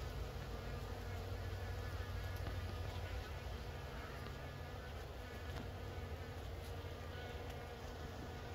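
Honey bees hum steadily at the hive in August, a dense, continuous buzz of many insects close by and faint overall.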